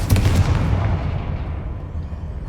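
Confringo fire spell in Hogwarts Legacy, a loud blast at the start that rolls into a rumbling, fading boom, with no talk.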